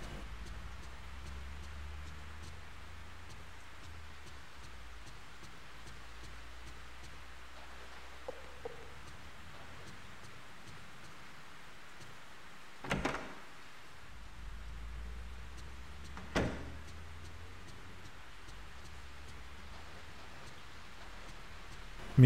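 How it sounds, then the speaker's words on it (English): Steady rain in the horror game Fatal Frame III: The Tormented, a soft, even hiss that continues for the whole stretch, with two brief sharper accents partway through and no one talking. "It's raining again."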